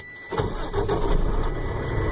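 A Class B truck engine cranks briefly, then catches and settles into a steady, rumbling idle close by, with no voices over it.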